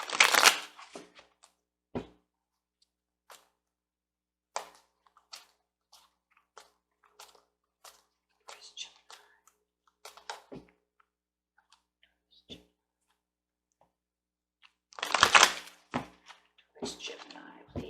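A tarot deck being shuffled by hand, with a dense burst of riffling at the start and another near the end and scattered soft card taps and thumps between, fairly close, with quiet stretches.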